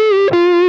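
Electric guitar through a humbucker pickup with the tone knob rolled fully off, sustaining one dark, muffled distorted note with a brief pick-scrape or string noise midway, loud and close with no talk.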